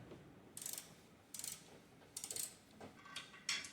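A ratchet works loose a motor mount bolt on a 2012 Mercedes GLK 350 X204, rear-wheel drive, giving several short bursts of quick clicking pawl ticks, close and fairly quiet, with pauses between strokes and no talking.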